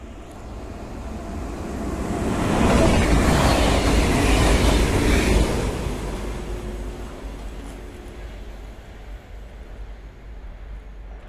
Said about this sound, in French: Ah, on va peut-être avoir un train.